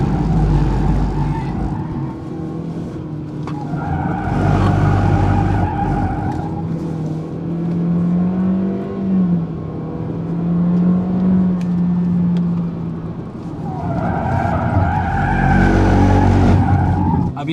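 A 2022 Honda Civic on a race track loses rear grip, its tires squealing and skidding in long sustained howls over a loud, revving engine that surges and falls.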